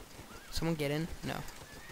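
Horse neighing in the video game Toy Soldiers, a single short whinny with a quick rising and falling pitch, heard close and fairly quiet amid faint game background sound.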